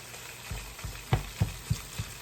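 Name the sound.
stirring food in a pot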